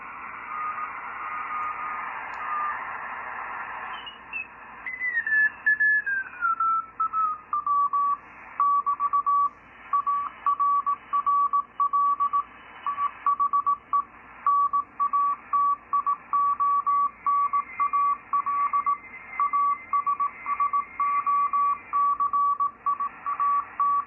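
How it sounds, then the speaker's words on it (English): A Morse code CW signal received on a Yaesu FT-101EE valve ham radio: after a rising whistle from tuning, a steady single tone keys on and off in quick dots and dashes over a soft background hiss. "I've got it set up right now, receiving on CW."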